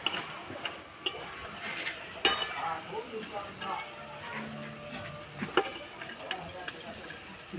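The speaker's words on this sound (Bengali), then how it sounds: "কিছুক্ষণ নেড়ে নেবো" Soaked sago pearls are stirred in syrup in a frying pan, giving quiet intermittent scrapes and clicks of a utensil against the pan under a low background hiss.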